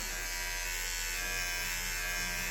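Kemei KM-H7 beard trimmer running at its second speed, a steady close electric buzz with no change throughout.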